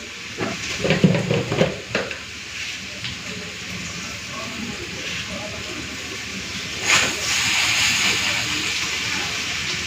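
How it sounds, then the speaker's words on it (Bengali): A little sugar dropped into hot oil in a pan, beside potatoes already frying, sizzles with a steady broadband hiss that swells again near the end, while a person talks over it. "আর এদিকে তেলটাও গরম হয়ে গেছে। চলুন প্রথমে একটুখানি চিনি দিয়ে দিই।"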